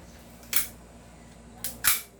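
An airsoft Hi-capa 5.2 pistol's slide snaps forward on release with a sharp metallic clack, followed by two more quick clicks near the end, close and crisp with nothing else around them.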